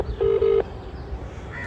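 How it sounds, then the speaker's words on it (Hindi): Telephone keypad tones dialing a call: two short, loud steady beeps in quick succession near the start, followed by quiet room noise. "तो मैं उसे फ़ोन करता हूँ।"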